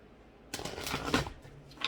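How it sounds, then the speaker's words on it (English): Soul journey oracle cards shuffled by hand during a tarot-style group reading, a short papery riffling burst of card flicks starting partway in, close and fairly quiet, no talking. "let's get some soul journey cards. Shuffle those really quick."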